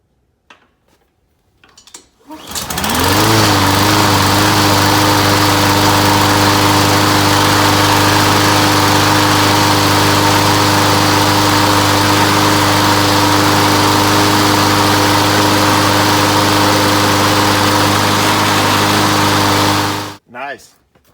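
A gasoline push lawn mower engine cranks and catches, then settles into a loud, steady running drone with a constant mid-pitched hum, held close for about seventeen seconds before cutting off abruptly.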